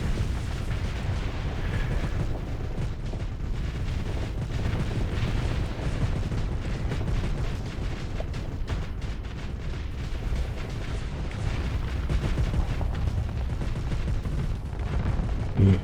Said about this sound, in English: Just all of our missiles being spent to blow through that debris.